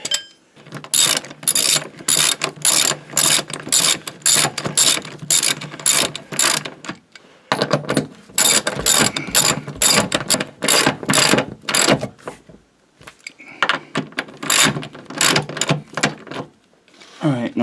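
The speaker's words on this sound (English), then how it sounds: "These get tightened down to 120 newton meters, but that's under the load, so I'm just going to snug them up" A ratchet wrench snugs up rear subframe mount bolts on a W126 Mercedes-Benz S-Class, loud, rapid, continuous clicking in long bursts with brief pauses between strokes, close up and steady.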